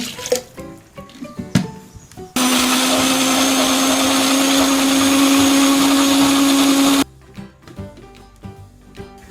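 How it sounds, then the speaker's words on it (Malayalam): A mixer grinder blends coconut with water in a loud, steady high whine lasting several seconds, starting and stopping abruptly, with quieter clinks and handling noises before and after. "ആദ്യം ജ്യൂസറിലേക്ക് തേങ്ങ ചേർക്കാം തേങ്ങ മിക്സിയിലേക്ക് ഇടുമ്പോൾ ചിരട്ടപ്പൊട്ടുണ്ടെങ്കിൽ അത് പെടാതെ ശ്രദ്ധിക്കണം"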